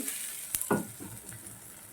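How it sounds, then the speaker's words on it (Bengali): Chhana fries with turmeric in oil in a pan: a faint, soft sizzle, then one clear clatter of stirring or a spatula striking the pan, with a few quieter scrapes after it. "ভালো করে তেলে নেব ছানাগুলা দিয়ে দিচ্ছি"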